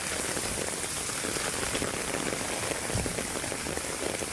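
Heavy, nonstop rain pours down onto surfaces near a swimming pool, a dense, steady, close hiss with no break and a single dull thump partway through.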